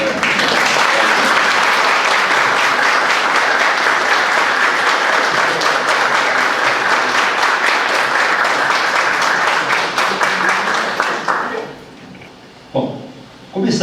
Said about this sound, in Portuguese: vamos bater palmas antes de chegar